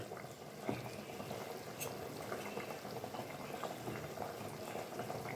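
Methi gatta curry gravy boils in a pot with a continuous close bubbling and gentle popping, steady and even throughout with no talk.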